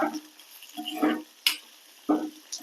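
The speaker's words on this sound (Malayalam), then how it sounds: "കരുവേപ്പില ഇട്ട് കൊടുക്കുക എന്നിട്ട് നന്നായിട്ട് ഒന്ന് വറുത്ത് കൊടുക്കുക" Curry leaves fry in hot oil for a chilli chutney served with appam, giving short crackling sizzle bursts stirred at intervals, fairly close and with no voices.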